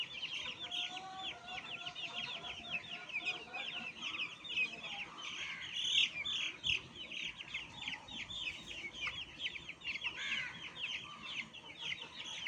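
A flock of chickens, including broilers, clucks and chatters continuously while eating beetle larvae, many overlapping calls close by, busy and fairly steady throughout.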